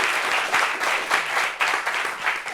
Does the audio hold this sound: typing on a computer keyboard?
no